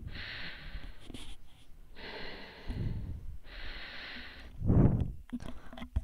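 Heavy breathing in the Five Nights at Chuck E. Cheese video game, with slow, hissing breaths in repeated long pulses and a louder snort-like gasp near the end, faint and alone.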